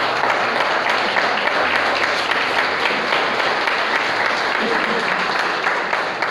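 A church congregation claps hands in praise, producing continuous, loud, dense applause that holds steady throughout.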